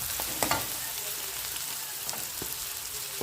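Onions fry in hot oil for a mushroom curry, giving a dense, even sizzle close by, with a couple of faint clinks near the start and no talk.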